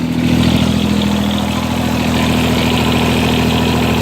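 A John Deere 330 three-cylinder diesel engine runs steadily nearby, a loud, constant idling drone with a strong low hum and no breaks or speech.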